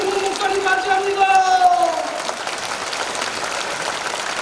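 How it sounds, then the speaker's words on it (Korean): Applause at a Korean church thanksgiving service for a pastor's inauguration, with steady crowd clapping throughout and sustained tones sounding over it in the first half. "박수 한번 해주세요."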